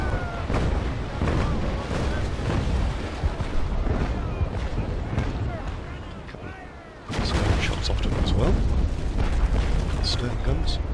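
Carronade cannons on a naval brig in the Naval Action Legends game fire in a dense run of booming blasts, loud and close, with a brief lull before the barrage resumes; a voice talks over it.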